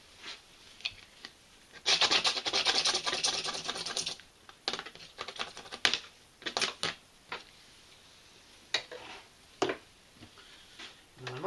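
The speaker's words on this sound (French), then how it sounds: "Donc là je vais faire un petit coup de couteau" A knife scraping insulation off electrical cable during wiring of a technical panel: close, rough rasping strokes, one sustained stretch near the start, then short intermittent scrapes separated by quiet gaps.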